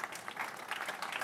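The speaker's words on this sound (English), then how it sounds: "Give a round of applause to Verwilghen, please." Applause from a conference audience at an audio industry event in Europe, a steady, soft wash of clapping heard from a distance and continuing evenly throughout.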